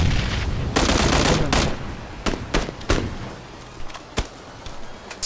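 Bursts of automatic gunfire in an online shooter battle-royale match, several sharp volleys and single shots cracking at varying distances with a loud sustained burst early on, no talking.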